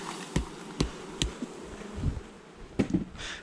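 Honey bees buzz around an open hive during an August honey harvest, a steady insect hum under several sharp knocks and clunks of frames or tools being handled nearby.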